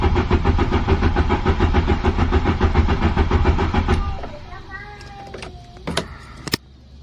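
A Mk3 Volkswagen Cabrio engine with a fuel-delivery fault cranks rapidly and rhythmically for about four seconds without catching, then stops, followed by a few faint clicks and knocks.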